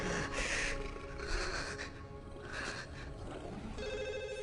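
A telephone rings repeatedly in bursts with a rhythmic bell-like trill over continuous film soundtrack and background noise in a dubbed Hollywood animated movie, with no speech over it.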